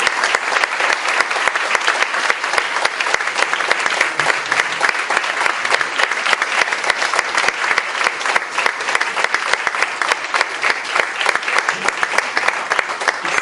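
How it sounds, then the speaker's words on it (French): Audience at a dinner speech applauding, a loud, dense and sustained round of clapping from many hands in a room, steady throughout with no voices standing out. "Ces applaudissements, Paulette, ces applaudissements, Michel, expriment notre reconnaissance"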